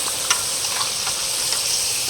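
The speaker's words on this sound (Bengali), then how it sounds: "ওই চিংড়ি মাছটা এই যে ভাজা হচ্ছে" Prawns sizzle steadily in hot oil in a pan outdoors under a mango tree, a constant crackling hiss with occasional small pops and no voices.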